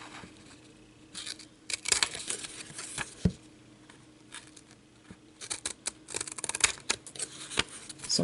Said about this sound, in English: I'm going to take my long blade scissors, put it right up against the cardboard here, and cut